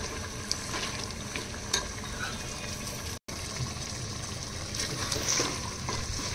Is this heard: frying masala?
yes